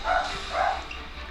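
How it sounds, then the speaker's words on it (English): Two quick barks from pet dogs somewhere in a house, muffled and mid-distance over a steady background hum, with no one speaking. "if you guys hear my dogs barking"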